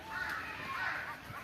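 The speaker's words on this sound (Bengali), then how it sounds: "উপরে পাখি ডাকে" Crows cawing overhead outdoors near a building site surrounded by water and banana trees, a couple of faint drawn-out calls over steady background noise.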